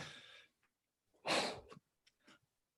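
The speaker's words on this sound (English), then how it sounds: "that was a fake sneeze." A deliberately faked sneeze: a breathy inhale, then one sharp forced burst, followed by a couple of short soft breathy snorts, close and quiet with no talking.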